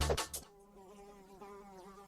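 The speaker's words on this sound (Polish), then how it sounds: "O, mucha przyleciała." A fly buzzes in the Friday Night Funkin' VS Fly mod, a thin, wavering drone that follows a few sharp game sounds at the start and carries alone at low volume.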